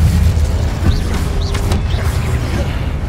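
A fire spell cast in the video game Hogwarts Legacy, heard as a steady roaring, whooshing rumble with faint chiming and creaking layered on top, continuous throughout.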